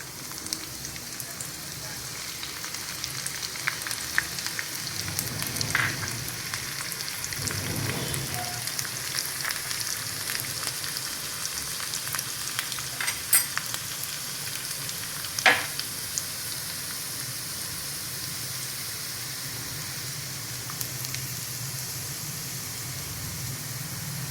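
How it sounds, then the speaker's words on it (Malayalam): Onions fry in oil with fenugreek for a Kerala fish curry, producing a steady, crackling sizzle with faint clinks and a couple of sharper pops against a continuous hiss. "ഉലുവായിട്ട് നമുക്ക് രണ്ട് കഷ്ണം ഉള്ളി ഇട്ട് കൊടുക്കാം"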